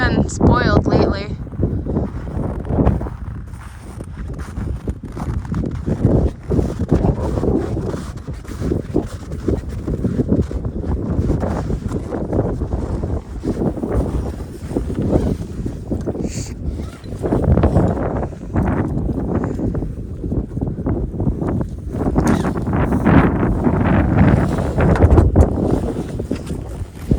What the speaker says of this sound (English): Windy, snowy, a little brutal.